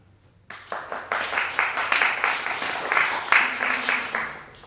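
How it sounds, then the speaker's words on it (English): A theater audience at the Hollywood Fringe Festival breaks into steady, fairly loud applause, with many hands clapping together and a few scattered early claps before it swells. "clap now if you'd like a happy ending."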